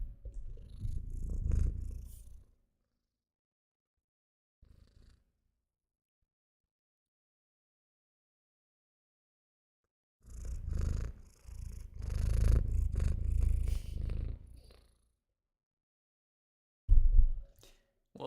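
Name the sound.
cat purring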